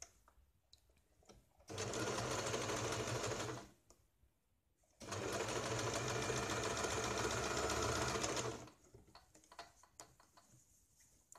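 A sewing machine runs two bursts of steady, fast stitching, joining a garment's shoulder seam, each run lasting a few seconds with quiet pauses around them.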